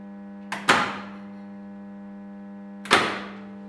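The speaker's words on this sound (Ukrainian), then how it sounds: "Після чого вмикаємо контактор." A two-pole power contactor snaps shut with a sharp double clack, then hums steadily at mains pitch before a second loud clack; no voices.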